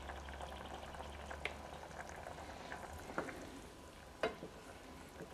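A pot of food bubbles quietly on a camp stove, a faint steady boil with soft popping and a few sharper clinks scattered over several seconds.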